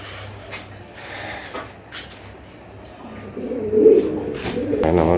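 Modena pigeons coo softly in a loft, low murmuring calls running steadily under a few brief knocks and shuffles, with a louder burst of cooing near the end.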